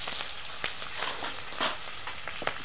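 Cumin, mustard seeds, green chillies and onions frying in hot oil, a continuous close sizzle broken by a few sharp crackles and stirring scrapes.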